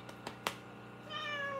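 A few soft taps and a click come first, then Marley, a pet cat, gives one clear rising meow nearby in a quiet indoor room.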